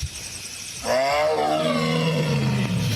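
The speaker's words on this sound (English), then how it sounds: "that's how a tiger roars" A tiger's deep, drawn-out roar swells suddenly and holds loud for a couple of seconds, falling in pitch as it fades, heard close over a faint background hum.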